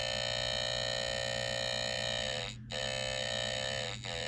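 A continuous high-pitched electronic alarm tone from a homemade water detector drones on loudly, briefly dipping and cutting out twice near the end.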